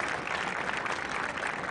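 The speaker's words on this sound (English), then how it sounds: "if we can give them a round of applause for their achievements at the Dunlap contest" Audience applause for a 7th grade band after their Division I rating at a contest, heard during a school spring concert: steady, dense clapping that stays fairly quiet and constant from start to finish.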